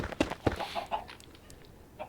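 Video game chickens clucking in a few short soft bursts, fairly faint against a quiet background, with brief clicks between calls.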